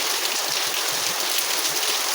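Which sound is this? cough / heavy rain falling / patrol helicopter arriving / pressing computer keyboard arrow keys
heavy rain falling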